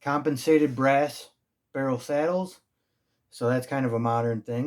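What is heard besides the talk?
No distinct noise like a dog, phone or traffic.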